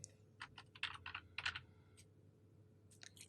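Rapid bursts of keystrokes on a computer keyboard while a spreadsheet cell is being edited, close and crisp, with clustered taps, a pause, then a final short flurry, no voices.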